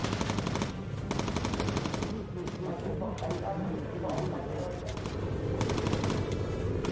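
Rapid bursts of machine gun fire from bomber gunners in the Bomber Crew game, dense and continuous rattling across the whole stretch, with a voice talking over it.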